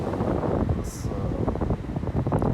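Cool wind blows steadily at an empty beach after heavy rain, a continuous broad rush with gusty low rumbling and no voices.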